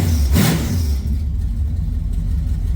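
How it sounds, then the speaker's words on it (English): A 1979 Pontiac Trans Am running with no exhaust gives one loud rev early, then settles into a deep, rumbling, uneven idle, close by and with no voices. "we've gone full on derby car now with no exhaust"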